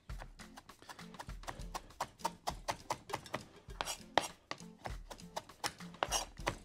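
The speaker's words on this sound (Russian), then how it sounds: "немножко порубил" A knife chops fresh herbs quickly on a cutting board, a fast run of crisp close taps with brief pauses between bursts.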